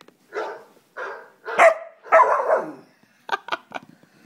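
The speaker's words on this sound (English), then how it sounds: "let's try bark" A dog bark sound effect plays from a computer: four short barking bursts in a steady run, fairly loud and clear, followed by a few quick, sharp clicks.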